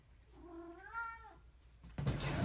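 A cat gives one drawn-out, wavering meow at close range, followed by a burst of rustling noise.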